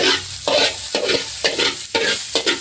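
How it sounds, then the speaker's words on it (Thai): Hot oil sizzles and spatters in a pan during home cooking, a steady close frying hiss broken by repeated bursts of stirring and splattering every half second or so, with no talk. "น้ำมันกระเด็นแล้วนี่"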